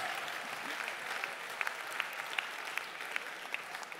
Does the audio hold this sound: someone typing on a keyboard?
no